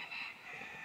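Chickens cluck steadily in a poultry area, a continuous close flock chatter that stays fairly even in loudness throughout, with no talk.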